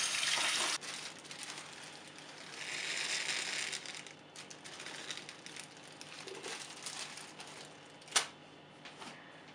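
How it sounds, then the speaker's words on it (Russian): Hot water being poured over plastic granules in a container, a faint splashing pour with a hissy rush near the start and again midway, plus small clicks and knocks, quiet and close with no talk. "нужно налить горячую воду и поместить его в воду на некоторое время"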